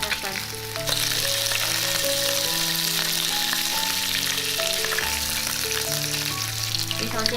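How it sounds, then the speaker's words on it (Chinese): Grass carp fish head frying in a pan of oil, a loud, steady sizzle and crackle that runs continuously, close up, with no voices over it. "鱼头煎到两面金黄"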